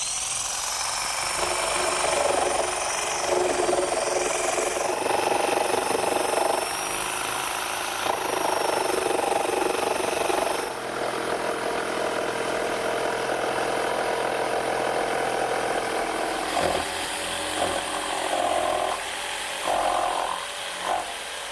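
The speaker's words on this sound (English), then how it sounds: "I'm actually just going to use a handheld saber saw with a nice sharp blade to make that cutout" A handheld saber saw with a sharp blade cuts out a pattern for a kitchen dresser, a continuous buzzing rasp with a whining tone that falters and shifts in pitch as the cut proceeds, ending in short stops and restarts.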